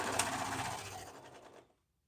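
A sewing machine stitches a leggings seam in one short, steady, whirring run of fast needle strokes that stops abruptly into silence, quiet and close, with no voices.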